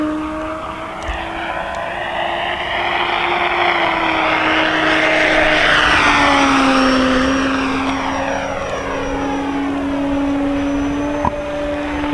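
Carbon-Z T-28 RC airplane in a knife-edge pass, its electric motor and propeller making a loud, steady whine that shifts in pitch and swells as it passes, with no talking.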